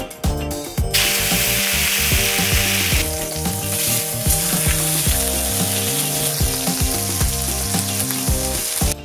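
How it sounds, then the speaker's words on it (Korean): Thick-cut bone-in steak, cooked sous vide and then cut, searing in a pan: loud continuous sizzling and spattering close up, with no talk. "이게 뼈가 커서 일반적인 팬에 들어가지가 않으니까 커팅 후 구워줄게요"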